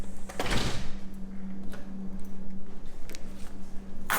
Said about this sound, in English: if I can get the door open